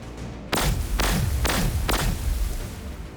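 Artillery fire in the Warhammer 40K: Gladius strategy game, four heavy booming thuds spaced roughly half a second apart, each with a low rumbling tail, loud and close.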